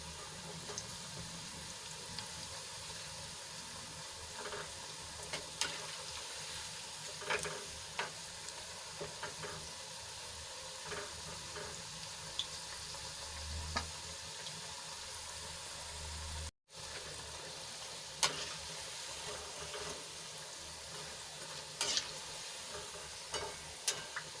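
Onion and potato lachha bhajiya crackle and sizzle steadily in hot oil, a close, continuous frying hiss with small pops and occasional stirring scrapes, no voices present.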